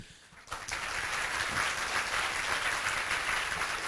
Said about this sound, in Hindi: अगर सहमत हो तो तालियों से पता चलना चाहिए